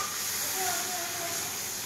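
Masala spices sizzle in hot oil with a splash of water while being stirred, a steady close hiss that holds evenly throughout with no clear voices.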